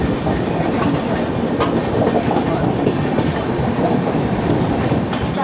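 The Jnaneswari Express train from Howrah to Mumbai rumbles steadily along the tracks, a dense continuous roar with faint rhythmic clatter from the wheels.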